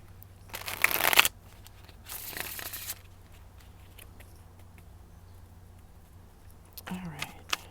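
Two quick bursts of tarot cards being riffled, one after the other, over a quiet background hum, with a soft brief noise near the end.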